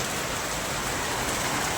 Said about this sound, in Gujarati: ચેવો વરસાદ પડ્યો હનો